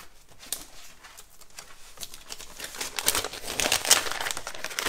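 Scraps of gold and white paper handled close up, a steady dry crinkling and rustling that grows busier and louder toward the end, with no talking.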